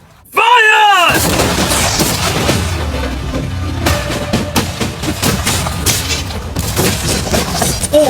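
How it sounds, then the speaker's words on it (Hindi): Cannons fire at a newly acquired yacht in a video game, with loud booming blasts and crashing impacts rolling on continuously, while voices talk over the barrage. "अब हम तुम्हारी नई यॉट पर कैनन्स को शूट करने वाले हैं"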